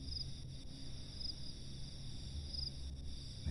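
Crickets chirp in a rice paddy with a thin, high, continuous trill. Brighter pulses come back every second or so. The sound is faint and steady over quiet outdoor background noise, with no voices.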